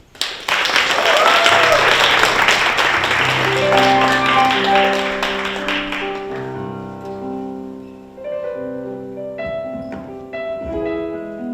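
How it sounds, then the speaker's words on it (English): An audience at a Black music history talk applauds to welcome speaker Lovely Hoffman, loud sustained clapping for about six seconds, then fading as sustained piano or organ music takes over. "So please put your hands together and join me in welcoming Lovely Hoffman."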